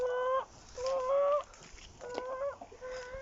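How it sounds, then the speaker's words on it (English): Backyard garden chickens cluck and murmur in a few short rhythmic bursts at moderate distance, with no talking over them. "You talking chicken talk?"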